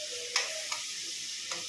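Ginger, chili and garlic paste stirred and fried in a pan, a steady close sizzle broken by three sharp clicks of a spoon against the pot.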